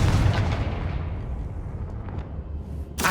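A Confringo fire spell blasting in the Hogwarts Legacy video game: a loud, roaring burst that fades into a rumbling tail, with a sharp crackle near the end.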